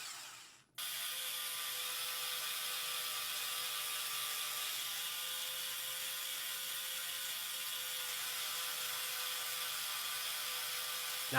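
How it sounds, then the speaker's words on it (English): A LEGO motor drives four linear actuators that tilt the launchers on a LEGO tank, giving a steady, continuous mechanical whir with a fine ratcheting buzz that starts abruptly and runs on without pause. "There's also another motor over here that drives 4 linear actuators"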